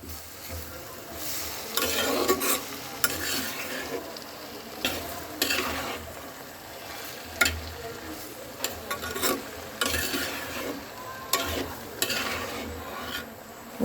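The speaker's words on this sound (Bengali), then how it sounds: "এখন আমি সবজিটাকে খুব সুন্দর করে ভাজা ভাজা করবো" Vegetables are stir-fried in a pan for a small-fish chorchori, with a continuous sizzle broken by repeated scraping and stirring strokes that come in uneven bursts.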